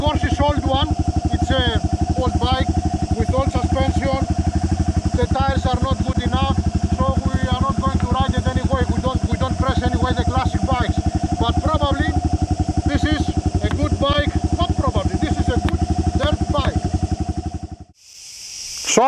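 A 1989 Yamaha XT600 single-cylinder off-road motorcycle with 320,000 kilometres idles steadily close by, its thumping engine running continuously with mechanical clatter before cutting off near the end.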